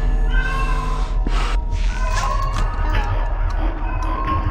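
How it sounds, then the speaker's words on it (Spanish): A domestic cat meows loudly and repeatedly close by, its drawn-out cries rising over a dense backdrop of horror video game sounds. "Perdón si mi gato estaba maullando"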